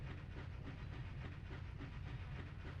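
Steam train in the PS1 game MediEvil, ready to depart, giving off a quiet, steady low rumble with a faint rhythmic chuffing and hiss.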